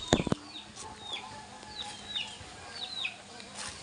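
Sweater pumpkin hatch gamefowl roosters on a farm, with repeated short chirps and clucks scattered through the stretch, a sharp knock at the start, and faint voices in the background.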